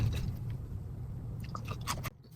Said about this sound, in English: Listen to this. That's a crispy potato.